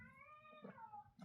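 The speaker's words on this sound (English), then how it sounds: "that's my cat." A domestic cat with a thyroid problem gives one clear, drawn-out meow that rises and then slides downward. It sounds close and moderately loud against a quiet room, with nobody talking.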